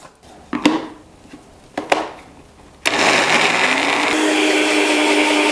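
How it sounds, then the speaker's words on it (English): A few dull knocks and clatters, then a blender roars to life and runs loud and steady, whirring continuously through the rest, blending pumpkin with butter and spices until smooth. "I'm gonna blend this until nice and smooth."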